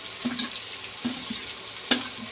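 Aubergine curry with tomato, red chilli, salt, coriander powder and turmeric stirred in a pan, a soft frying sizzle broken by three distinct spoon scrapes and clunks about a second apart, with no voices.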